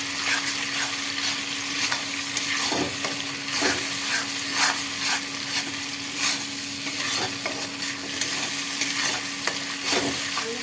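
Poppy seed paste being stir-fried in a pan, giving a steady close sizzle broken by repeated scraping strokes of a spatula, with no voices.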